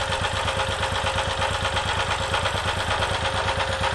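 A generator engine running on HHO (hydrogen) fuel during a test, a loud, steady close-up idle with rapid regular firing pulses and an even mechanical drone, no talking.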